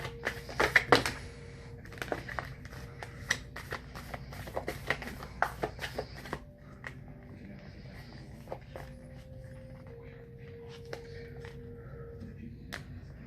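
Tarot cards being shuffled by hand, a run of crisp taps and riffling clicks at close range, busier at first and then sparser with a few soft tones.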